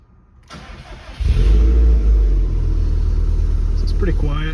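A 2010 Subaru STI with a Cobb exhaust and mufflers cranks briefly, then fires into a loud, deep burst before settling into a steady, fairly even idle rumble close by.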